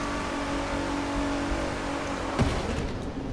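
Car engine in The Crew 2 racing game holding a steady drone while driving, with a brief louder rev burst near the end, continuous and fairly close.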